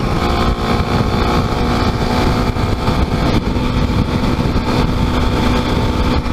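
A Kawasaki KLX300 motorcycle cruises on a highway, producing a loud, unbroken engine drone mixed with heavy wind roar throughout, with no voices.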